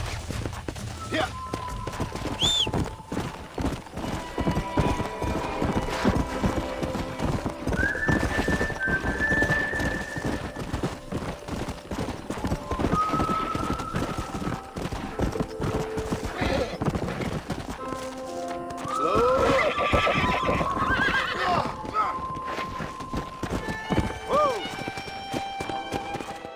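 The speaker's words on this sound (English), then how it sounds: "We got some fine horses." Horses in the Red Dead Redemption video game clip-clop along with scattered whinnies and neighs over a busy game soundscape, with voices speaking at moments.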